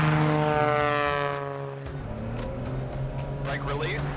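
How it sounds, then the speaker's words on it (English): Tailwheel airplane engine running up to full takeoff power, a loud steady propeller drone with rising harmonics, while someone talks over it throughout. "Hold the brakes, adding full power. Brake release."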